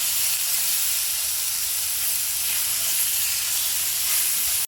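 Pieces of banana cut fairly large sauté in a pan, giving a steady, even sizzling hiss that holds at the same loudness throughout with no voices.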